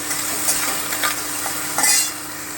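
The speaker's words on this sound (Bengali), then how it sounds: "আগে করলাটা একটুখানি ভেজে নেব" Steady oily sizzle of bitter gourd frying in a pan, with a few spatula scrapes and stirring clatters mixed in; no voices.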